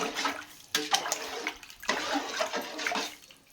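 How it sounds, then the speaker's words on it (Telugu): Water is poured into a cooking pot to make katta, the thin lentil broth served with biryani, in several splashing bursts that swell and fade, close and moderately loud. "ఇదిగోండి వాటర్ తగినంత వేసి ఇప్పుడు బాగా మరిగించాలండి."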